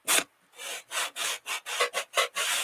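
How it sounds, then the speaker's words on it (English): A sanding block rasps back and forth over a rough cardboard edge in about eight quick, even strokes, close up and alone. "I'm just going to take the sanding block and hit the edges of this really quick."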